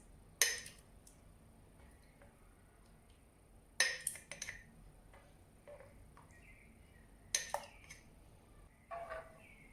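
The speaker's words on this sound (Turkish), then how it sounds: "Şimdi kavanozlara yerleştirelim." Glass jars filled with freshly made strawberry jam are handled on a kitchen counter. Sharp glassy clinks and taps come in a few separate bursts, close and clear, against a quiet background.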